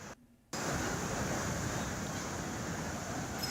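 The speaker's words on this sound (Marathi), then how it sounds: "गोदावरी नदीपात्रात पुन्हा एकदा पाण्याचा विसर्ग सुरू आहे" The flooded Godavari river surges fast around submerged riverside temples near Ramkund, a steady, loud broadband rush of water that starts after a brief quieter moment and continues unbroken with no voices.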